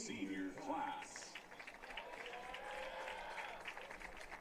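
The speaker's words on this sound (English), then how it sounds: "Let's give another round of applause to this year's Averett men's lacrosse senior class" Spectators at a men's college lacrosse game applaud the senior class, a broad wash of distant crowd clapping under an announcer's voice on the stadium PA.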